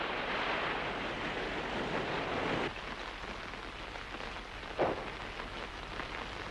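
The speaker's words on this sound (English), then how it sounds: "Well, the storm will be over soon." Steady wash of heavy rain and surging waves, a dense continuous roar with a brief louder splash near the end.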